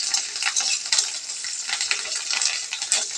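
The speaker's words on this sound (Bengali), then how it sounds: "এই যে পাতাগুলো নিয়ে আমি তেলে দিয়ে দিলাম" Curry leaves hit hot oil and crackle and spit in quick, uneven bursts over a continuous sizzle. The frying is close and fairly soft and lasts the whole moment, with no voices.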